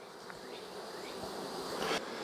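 Honey bees buzz in a steady, low drone, many insects humming together close by on a hive, with no voices.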